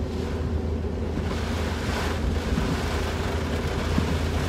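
Hurricane-force wind roaring over crashing surf on the shore at Gulf Shores, Alabama, ahead of Hurricane Sally's landfall; loud, constant and close, with steady wind noise buffeting the microphone and no voices.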